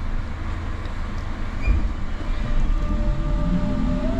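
A low, steady rumble of a London train in motion, bound for Stratford, with faint rising whine and rattling, continuous and moderately loud, no talking.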